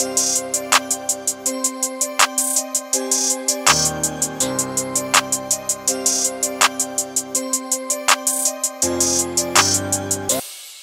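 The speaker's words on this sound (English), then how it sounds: "just laid down a clap right here and a basic two-step hi-hat pattern with some rolls added" A trap-style beat built in FL Studio, with a sharp clap on the backbeat over a two-step hi-hat pattern broken by rapid hi-hat rolls, plus deep 808 bass and a looping melody, loud and steady without talk.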